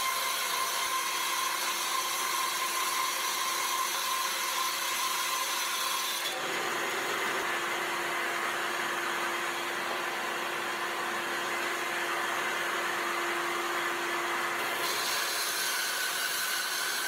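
Power saw resawing a 3/4-inch wooden board down toward 1/4-inch thickness, a steady close grinding whine with a sustained tone in the middle section, bracketed by rougher cutting noise at the start and end.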